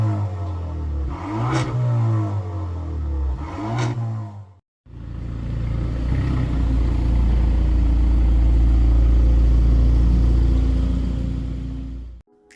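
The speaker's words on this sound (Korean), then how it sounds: "배기음은 영상으로 한번 확인해 보시죠." Kia Stinger with only its exhaust tips replaced, engine revving twice in loud bursts, a brief cut, then a steady deep rumble that holds before cutting off, no talk.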